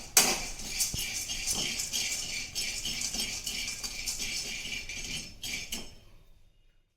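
Pumpkin seeds dry roasting in a hot pan, giving a steady bright rattle and clatter of seeds tossed and stirred against the metal, with a few louder clinks before fading to silence.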